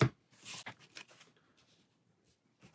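A deck of cards for the board game Aeon's End is shuffled by hand, a few quick riffling bursts near the start, then faint scattered rustles.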